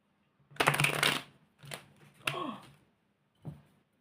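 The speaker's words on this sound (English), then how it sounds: "shuffle these cards like this" Tarot cards are riffle shuffled up close in quiet surroundings, three crisp fluttering bursts of flicking cards, the first longest, followed by a soft single tap as the deck settles.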